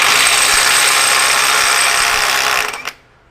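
A NEIKO 20V 3/8-inch brushless impact wrench, model 10880A, set to 75 foot-pounds, runs in a loud, steady, close whirring burst with a rapid ratcheting texture while breaking bolts free, then cuts off abruptly near the end.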